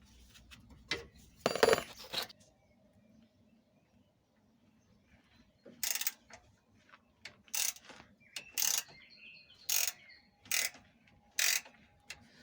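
A ratchet clicks in short bursts while undoing torque rod bolts on a Volvo 240, with a pause between groups of rapid close-up clicks and faint background ambience.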